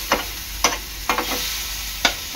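Tomatoes cooking in a pan for mushroom masala, with a steady low sizzle broken by four sharp stirring scrapes of a spoon against the pan.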